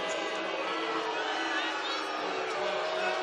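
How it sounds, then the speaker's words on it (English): Basketball arena crowd in Conway booing during a college game, a dense, steady roar of voices filling the hall without pause. "A choir of boos here"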